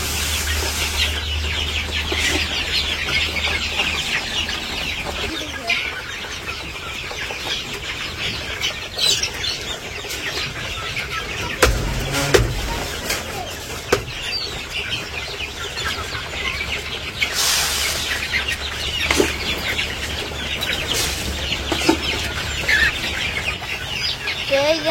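Village chickens cluck and squawk while being given feed on a rainy morning, with bursts of wing flapping and scattered calls over a constant patter of rain, fairly close and busy for the whole stretch.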